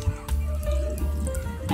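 Water running from a newly replaced faucet, a close, steady splash and trickle into a basin with a few brief clunks.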